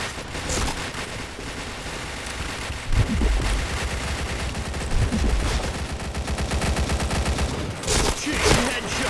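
Rapid bursts of gunfire from a shooter video game, dense and continuous with sharper heavy shots rising out of the barrage, played close and loud.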